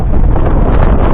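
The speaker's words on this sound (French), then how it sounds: "Il y a le vent qui est en train de monter" Wind rushes steadily across the microphone aboard a sailboat at sea as the breeze picks up, a loud, dense, unbroken roar with no talk.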